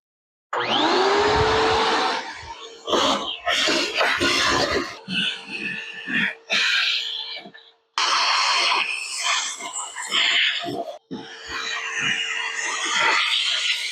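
A vacuum cleaner sucks up debris while cleaning a car engine bay, a close, loud whooshing hiss that starts and stops in bursts as the nozzle moves around, with some rattling and brief pauses.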